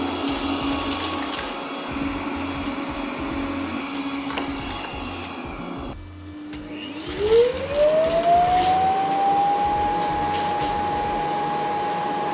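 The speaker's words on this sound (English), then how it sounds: "The self-empty process is loud for a few seconds only" A Vyzzle E20 robot vacuum self-empties at its dock with a loud, steady mechanical whir that changes character partway through, then settles into a rising, sustained whine.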